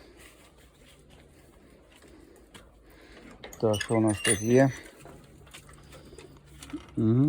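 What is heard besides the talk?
pigeons cooing in a dovecote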